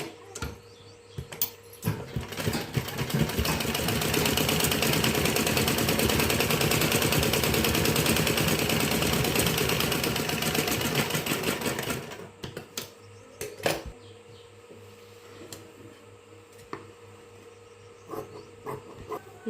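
A sewing machine stitches a blouse in a fast, continuous rattling run lasting several seconds, loud and close, then stops and leaves a few scattered clicks and light handling noises.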